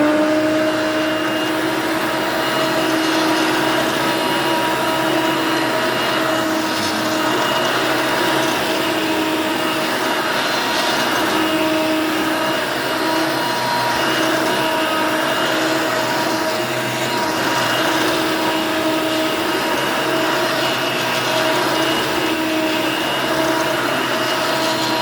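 Hoover Elite 350 6.0 upright vacuum cleaner running steadily, a loud continuous motor whine with a constant tonal hum and airy roar, unchanging throughout with no voices.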